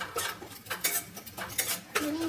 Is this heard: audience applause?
no